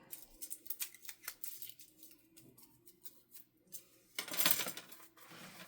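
Tape peeled and torn off the spine rods of a SYNCFUN airplane kite, a series of close crackling rips and rustles ending in one louder, longer strip pulled free.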